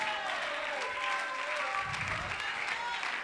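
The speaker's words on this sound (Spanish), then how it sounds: "den un aplauso fuerte para Dios" A church congregation applauds, giving a soft, steady wash of clapping heard at a distance, with voices and a tonal backdrop mixed in.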